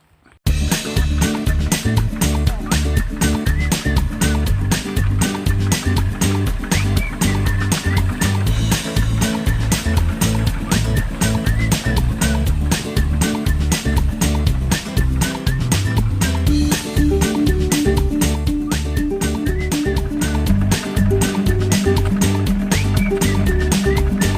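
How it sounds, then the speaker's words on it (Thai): Walk-behind tractor pulling a homemade trailer loaded with harvested rice, its single-cylinder engine chugging in a fast, steady knock throughout, loud and close with no talking. "เป็นรถไถเดินตามพ่วงกับรถพ่วงที่สร้างขึ้นเองนะครับ"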